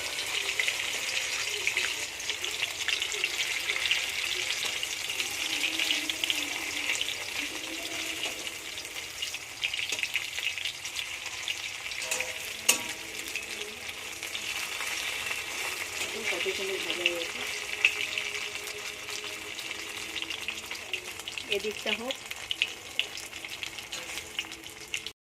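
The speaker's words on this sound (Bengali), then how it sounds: "পনিরটা ভাজা হয়ে গেছে আর পনিরটা একটু বেশিই ভাজা হয়ে গেছে" Paneer cubes fry in a pan, giving a continuous soft hiss at a moderate distance with faint clinks, while a voice briefly speaks over it.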